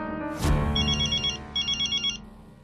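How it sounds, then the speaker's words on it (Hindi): A landline telephone rings in repeated electronic trills in two bursts, following a brief thud, clear and near against a steady tonal background. "जेठालाल आज लैंडलाइन से कैसे फोन कर रहा है?"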